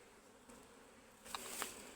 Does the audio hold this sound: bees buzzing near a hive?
yes